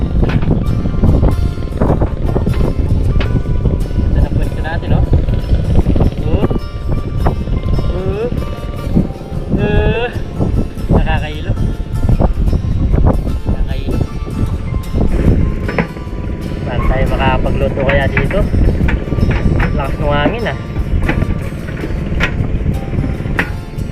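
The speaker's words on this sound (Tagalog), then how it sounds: "Mahangin pa naman." Strong wind buffets the microphone continuously with a loud rumbling roar, on a fishing boat on a river, with people talking underneath.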